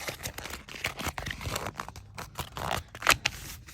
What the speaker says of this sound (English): and I'm going to crumple it